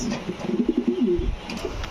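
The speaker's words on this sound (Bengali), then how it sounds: "কবুতরগুলো একদম সুস্থ সবল আছে" A pigeon coos in a quick, throaty, bubbling series of notes, close and clear, with no talking.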